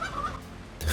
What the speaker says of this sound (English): They're turkeys, aren't they?